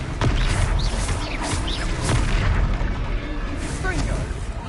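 Blasting-curse explosions in the Hogwarts Legacy video game fight: heavy, rumbling booms burst repeatedly in a dense, continuous barrage, with shouting voices over the din.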